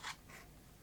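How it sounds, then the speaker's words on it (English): A Sony BE-V8 8mm tape rewinder shuffles as it powers up: two quick, faint mechanical scraping clicks up close, followed by a low, quiet hum. "You hear that little shuffle as you power it up."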